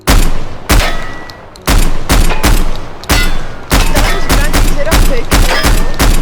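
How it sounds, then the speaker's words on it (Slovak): An AA12 shotgun in the video game Minecraft fires in loud, rapid bursts of booming shots with very brief gaps between them, close and dominating. "Ďalšia zbranie je nejaká AA12 shotguna, OK."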